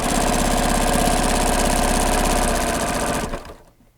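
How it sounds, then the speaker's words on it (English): A sewing machine stitches through a plush minky quilt with batting, running steadily and close for about three seconds before stopping and falling quiet. "you're going to sew into about 3/8 of an inch before the end of the batting"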